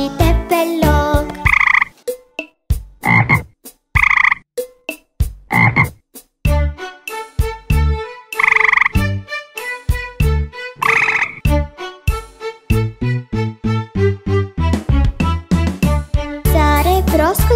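Frogs croak in a children's song, with a long series of loud, rhythmic, closely spaced croaks and ribbits that are sometimes sung or voiced in imitation, alternating with pauses.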